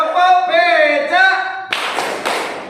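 Voices chant in unison during a group clapping game, then a few sharp, loud hand claps follow in a short rhythmic pattern right after the chant ends.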